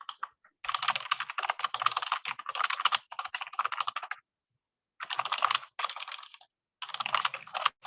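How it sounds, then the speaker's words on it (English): Rapid clattering keystrokes on a loud, cheap mechanical-style computer keyboard come in dense bursts separated by short pauses, close and distinct with no talking. "All right, I gotta ask, John, what kind of keyboard are you typing on?"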